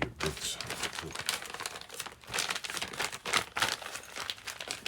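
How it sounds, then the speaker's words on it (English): A small plastic baggie of bits crinkles and rustles continuously as it is handled close by on a workbench, with irregular crackling bursts throughout. "Little plastic bag."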